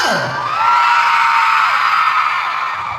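A large crowd of fans at a mall show in SM City Batangas, Philippines, shouting and cheering loudly together as a celebrity's name is called, a sustained roar of many voices that holds steady for a few seconds.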